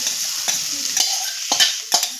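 Grated coconut roasting in a spoonful of ghee in a kadhai over low heat gives a steady, close sizzle, with spatula scrapes and stirs roughly every half second.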